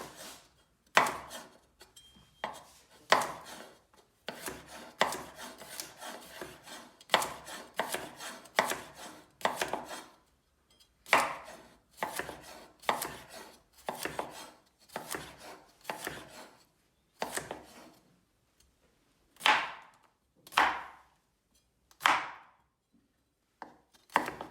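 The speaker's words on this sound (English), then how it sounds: "Now we will cut the cucumber into pieces like this." A knife chops cucumber into pieces on a cutting board, with crisp, close knocks arriving in quick bursts and then spacing out into slower single cuts.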